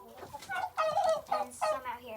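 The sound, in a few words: chickens clucking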